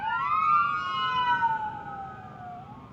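An ambulance siren wails past on the road, its rising and falling tone sweeping and slowly dropping in pitch as it moves by, fairly loud over the low rumble of traffic.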